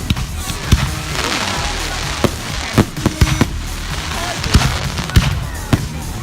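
Fireworks at an outdoor Bonfire Night display burst in a string of sharp, loud bangs and crackles at irregular intervals, some close and heavy, over a steady background of crowd noise and voices.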